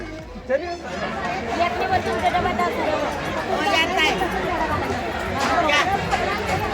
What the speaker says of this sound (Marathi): खूप गर्दी